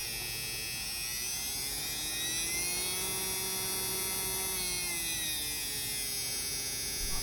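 Smart Stick variable speed hand blender motor running alone, a steady high-pitched electric whine and buzz that swells slightly in pitch midway, faint and continuous with no talking.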